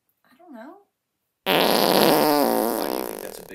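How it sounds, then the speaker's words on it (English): A loud, rasping fart noise on a sports podcast bursts in after a brief high voice and blares steadily for about two seconds before fading slightly. "There's going to be a lot of fart noises on this podcast"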